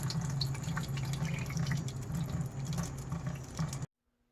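Pressed grape juice trickles and drips steadily into a bucket after a primitive hand pressing, a close, continuous liquid patter that stops abruptly near the end.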